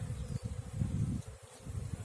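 Honey bees hum low and steady around an open hive frame while a beekeeper consolidates a small colony in spring, a dense close buzz with small fluctuations.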